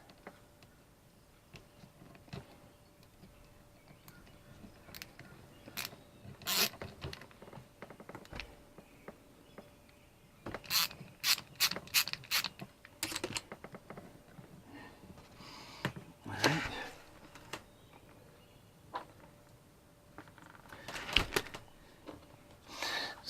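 Small metal hose clamp on a Dometic 300 RV toilet water valve being run down with a tool, giving light irregular clicks and ticks in scattered bursts, close and fairly quiet, with no talking.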